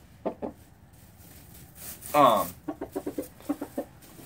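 A radio butcher cross game fowl rooster at a 4-H poultry showmanship handling gives a series of short, close clucks and one louder harsh squawk in the middle, with quiet pauses between calls.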